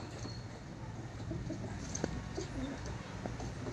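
Soft pigeon coos and faint bird shuffling sit under a constant low background hum, with no talking.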